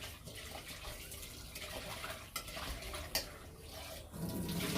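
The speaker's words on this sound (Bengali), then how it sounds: "এই যে বেশি এভাবে লবণ দিয়ে এভাবে ধুয়ে নেবেন।" Fish being rinsed with salt in water, giving steady splashing and sloshing with brief louder splashes, close by and alone without talk.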